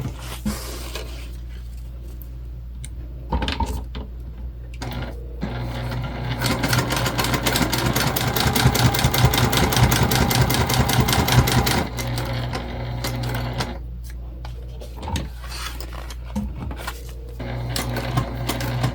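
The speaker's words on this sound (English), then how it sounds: "we're going to stitch this box, stitching our exterior and interior together." A sewing machine stitches the exterior and interior of a travel sling bag together, running in a dense, steady burst of rapid needle strokes through the middle, with lighter, intermittent stitching and pauses before and after.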